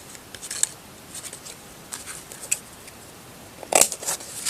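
Scissors snip through paper while signatures are placed for bookbinding, a handful of quiet, crisp cuts spaced irregularly, with a louder cluster of snips near the end.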